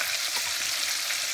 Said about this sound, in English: We've just fried in vegetable